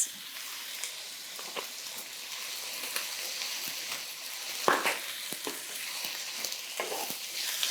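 Paprika and red pepper flakes sizzle in a hot pan while being stirred, a soft steady crackling hiss with scattered scraping clicks and taps from the utensil, fairly quiet and close, with no talking.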